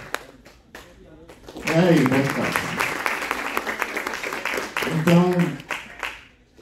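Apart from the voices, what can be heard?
audience applause for a festival guest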